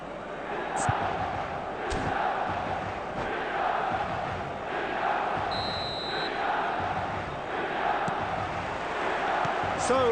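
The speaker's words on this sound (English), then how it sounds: "The stadium is full of noise and energy." A full stadium crowd in the eFootball game roars steadily with swelling chants and surges throughout, loud and continuous, while a commentator talks over it.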